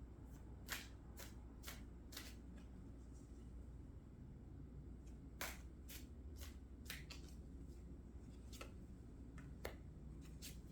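Tarot cards shuffled close to the microphone in a quiet room, a series of crisp riffling bursts spaced irregularly over several seconds, soft overall with no talking.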